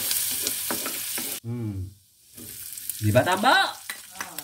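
Garlic sautéing in very hot cooking oil, sizzling close by, with someone speaking Filipino over it and a quiet pause in the middle.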